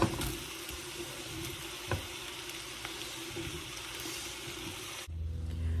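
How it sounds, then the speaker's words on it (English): Cubed skin-on potatoes go into ground beef sauteing in an Instant Pot, giving a steady, close, bright sizzle with a brief clatter near two seconds. The sizzle cuts off abruptly just after five seconds, leaving a quieter low hum. "Now I'm going to put that right in with that sauteing burger."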